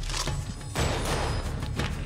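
A pistol fires in short bursts, with quick clustered shots and a thump, fairly faint and distant over a couple of seconds.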